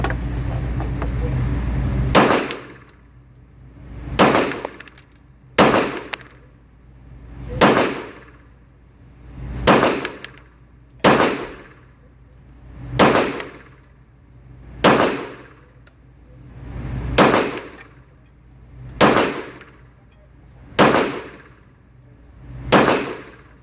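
A Staccato P pistol fired at a shooting range, about a dozen loud, sharp shots spaced a second or two apart, each ending in a short ringing decay. No voices.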